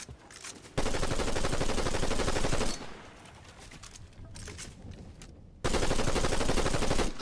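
Sustained bursts of rapid automatic gunfire in the video game Fortnite, loud and dense, with a quieter stretch of scattered shots in the middle before the heavy firing resumes; no talking.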